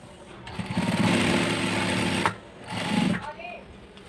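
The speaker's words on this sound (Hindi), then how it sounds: "और इस तरीके से पकड़ के इसे हमें सिल देना है।" Sewing machine stitching elastic into the folded waistband of palazzo trousers, running in two bursts, a long steady whirr then a shorter one, close and fairly loud.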